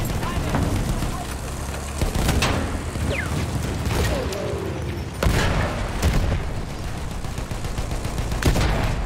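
Heavy cannon blasts boom several times amid rattling gunfire and battle noise in a game, with voices over the din.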